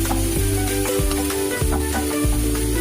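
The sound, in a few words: onion sautéing in cooking oil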